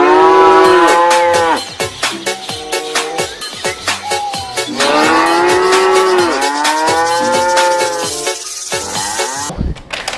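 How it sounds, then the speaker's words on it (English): A battery-operated toy cow gives loud, repeated electronic moos close up, the long tones broken by a rapid clicking mechanical rattle, and a short burst ends it. "Battery operated cow."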